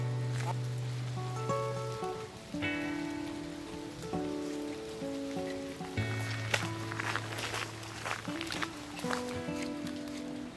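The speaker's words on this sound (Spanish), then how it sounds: "con la lluvia es un horror" Steady rain falls while walkers trek the Camino Portugués, a dense patter of drops on hoods and ground under sustained humming music-like tones, with occasional footsteps and soft voices.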